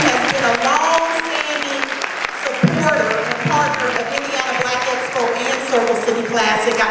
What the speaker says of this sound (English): If we can give McDonald's a round of applause